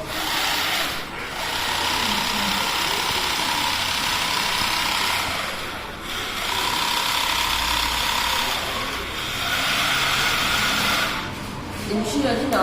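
Motor of a small remote-controlled harvesting machine, built at a school and able to move in four directions, running steadily: a continuous close whirring drone that dips briefly three times as it works.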